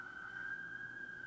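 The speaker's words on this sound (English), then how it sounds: "This is the third day of sirens." A steady siren tone from an emergency vehicle in downtown Toronto, held at a constant pitch for a brief moment, faint and distant with no talking.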